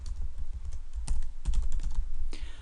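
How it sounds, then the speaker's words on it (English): Fast, steady typing on a computer keyboard while entering names in code, with dense close clicking over a low background hum and no speech. "I'm just going to type in a few names"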